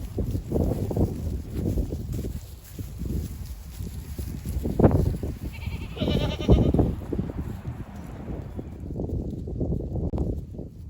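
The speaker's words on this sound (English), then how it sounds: "I made it up here to the goats" Boer goats in a pen bleat repeatedly, several calls near and far over rustling and shuffling hooves, with a steady outdoor background.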